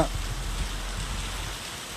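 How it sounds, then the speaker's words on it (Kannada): Heavy monsoon rain in the Malnad hills at Mudigere, a steady broadband hiss of falling water that stays fairly even and close throughout, with no voices. "ನೋಡಿ ವೀಕ್ಷಕರೇ ಮಲೆನಾಡಿನಲ್ಲಿ ಮಳೆ ಅಬ್ಬರ"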